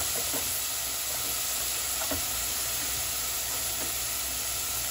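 Mushrooms dropped into a hot pan give a steady, moderately faint hiss and sizzle with a few soft clicks, an even wash of frying noise with no talk.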